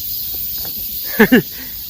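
A thin, continuous high-pitched drone of cicadas hums in the background, with a short burst of a voice near the middle.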